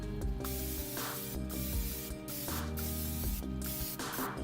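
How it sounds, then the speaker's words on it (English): Non-stick cooking spray aimed at hot smoker grill grates, heard as a series of short, close hissing bursts, about five or six in quick succession with brief gaps between them. "Now we're going to add some non-stick spray to it."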